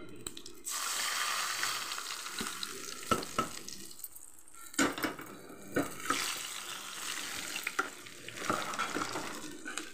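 Curry leaves sizzle and crackle in hot oil during home cooking for visiting relatives, a steady frying hiss broken by sharp pops and scraping stirs, close and fairly loud.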